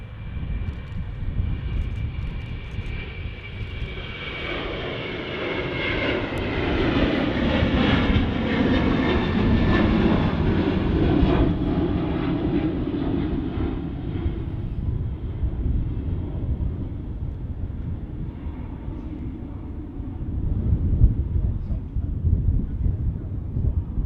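A Ryanair airliner takes off from Manchester Airport early in the day. A loud, broad engine roar builds and peaks midway, then slowly fades while wind buffets the microphone.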